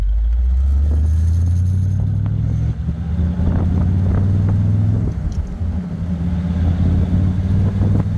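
A 1969 Chevrolet Corvette with the top down on a test drive, its engine giving a steady loud low rumble that rises and settles as it pulls away and shifts, close and continuous with no talk.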